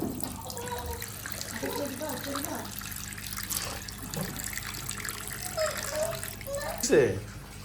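Water runs and splashes steadily at close range, like a tap filling a basin. Someone talks over it throughout, and there is a louder splash near the end.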